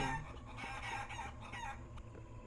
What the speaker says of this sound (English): Look at these Skele chickens.